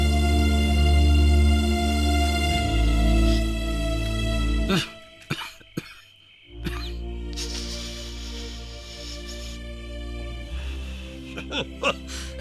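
A man coughing repeatedly after smoking beedis in secret, the harsh coughs set against a steady music score and background noise, with a brief quiet gap midway.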